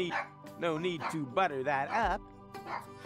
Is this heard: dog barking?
yes